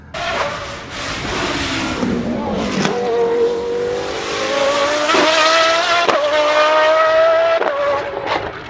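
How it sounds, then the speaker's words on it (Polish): A naturally aspirated 5.2-litre Judd V10 supercar engine that revs to 10,000 rpm and makes over 830 horsepower: loud, close, high-pitched wailing revs that climb steadily, with brief shifts and throttle blips. "To jest silnik firmy Jude, który kręci się do 10 tysięcy obrotów i wypluwa ponad 830 koni mechanicznych."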